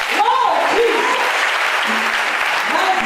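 A church congregation applauds steadily and loudly throughout, with voices calling out over the clapping.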